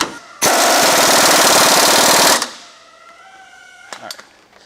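A power tool runs bolts up tight on a stainless steel bumper bracket for a Peterbilt 389 truck, one loud two-second rattling burst, followed by a quieter pause and faint clinks.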